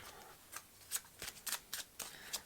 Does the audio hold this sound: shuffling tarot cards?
yes